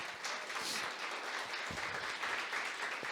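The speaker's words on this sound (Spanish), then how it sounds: "¿Cuántos pueden darle un aplauso al Señor?" A church congregation applauds during a sermon, a dense steady wash of many hands clapping together that holds at an even level throughout, with no voices rising above it.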